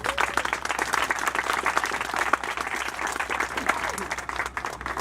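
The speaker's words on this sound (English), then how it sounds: "Let's give them a round of applause" A crowd at a NYCHA press event in Red Hook gives a round of applause, a steady, moderately distant clatter of many hands that carries on evenly throughout.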